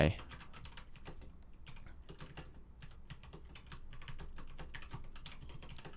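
Quick, irregular clicking of keys on a computer keyboard during practice on a typing website, steady and close, with no talking.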